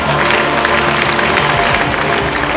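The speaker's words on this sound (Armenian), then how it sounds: "ծափահարություն է" Steady applause from an audience, many hands clapping at once in a dense, even patter that carries on at the same level throughout, with a faint murmur underneath.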